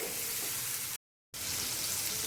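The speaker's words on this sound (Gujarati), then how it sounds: "તો પહેલાં આપણે થોડા ટામેટા અડધા સંતળાય ત્યાં સુધી એને ગેસની ફ્લેમ મીડિયમ રાખી અને સાંતળી લઈશું" Tomatoes sauté in a pan over a medium gas flame for Gujarati tomato chutney, a soft, even sizzling hiss that cuts out to silence briefly midway, then resumes, with no voices.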